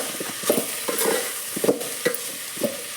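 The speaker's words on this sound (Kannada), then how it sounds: "ಇದ್ರಾಗ ಒಗ್ಗರಣೆ ಕೊಡಕತ್ತೀನಿ" A spice tempering sizzles in hot oil in a pan, with a steady frying hiss broken by rhythmic stirring strokes about every half second, close and fairly loud.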